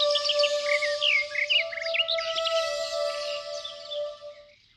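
Several birds chirp and tweet in quick, lively bursts close by, with bright trills layered over one another in an animated Tamil Panchatantra children's story. No one speaks.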